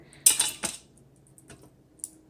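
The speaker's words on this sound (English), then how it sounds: "I'm putting my oxtails inside the pressure cooker" Oxtails being placed into a Cosori pressure cooker pot, two sharp metallic clatters close up at the start, then a quieter knock and a faint clink later.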